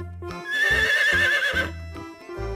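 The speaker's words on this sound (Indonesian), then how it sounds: "Wow, ada kuda poni teman-teman." A pony neighs close by: a loud, wavering whinny about a second long, framed by shorter snorting grunts before and after.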